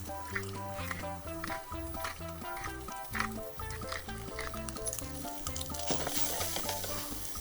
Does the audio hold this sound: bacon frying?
yes